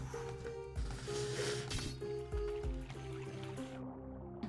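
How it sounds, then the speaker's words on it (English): Water in the video game Ender Lilies, a soft continuous trickling and dripping wash running steadily under gentle background music. "I'm actually gotten used to the water sounds"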